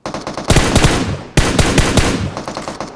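Automatic machine gun fire in a Miramar match of a battle royale shooter, two loud sustained bursts of rapid shots with a short break between them, close and dominant with no talk over it.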